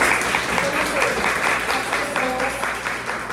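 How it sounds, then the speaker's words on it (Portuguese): Leadership academy audience giving a round of applause, a continuous dense patter of many hands clapping, close and fairly loud, with faint voices mixed in beneath. "Então, uma salva de palmas, né?"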